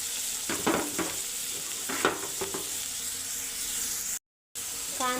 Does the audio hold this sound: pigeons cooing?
no